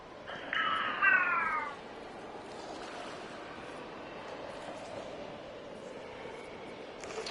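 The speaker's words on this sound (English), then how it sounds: "is she meowing?" A cat-like meow from the Pool Lady character in the video game Anomaly Pools, a single short drawn-out call heard near and clearly over a soft, steady watery ambience.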